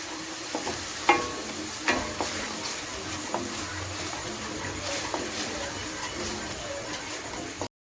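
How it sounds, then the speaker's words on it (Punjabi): A spoon stirs ginger-garlic paste in a frying pan, with scattered scrapes and knocks over a soft sizzle, heard close. "ਨੈਕਸਟ ਅਸੀਂ ਐਡ ਕਰਾਂਗੇ ਇਸ ਦੇ ਵਿੱਚ ਅਦਰਕ ਲਸਣ ਦੀ ਪੇਸਟ ਮਿਕਸ ਵੈਲ"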